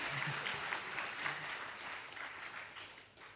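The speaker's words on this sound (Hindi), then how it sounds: "तालियां बड़ी कमजोर है" An audience claps at a Shri Ram Katha religious discourse, producing a steady, fairly faint wash of applause for a few seconds that thins slightly toward the end.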